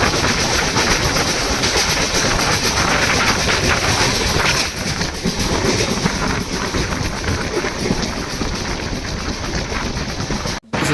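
A train overtaking a Nandyal DEMU passenger at Balapalli station heard from on board: a loud continuous rumble with rhythmic wheel clatter and wind buffeting, steady for most of the stretch before a brief dropout near the end.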